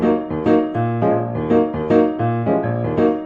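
Piano chords pounded heavily in a steady rhythm, each hit loud and percussive with no voices present.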